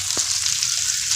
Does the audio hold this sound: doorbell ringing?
no